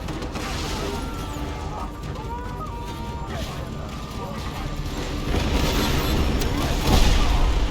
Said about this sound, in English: I think I gotta find a place that doesn't have so much machine gun fire